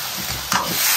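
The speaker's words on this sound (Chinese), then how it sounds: "豆瓣酱来炒" Doubanjiang bean paste stir-fried in a wok for spicy braised rabbit makes a loud, dense sizzle at close range, with one brief scraping push of the spatula partway through.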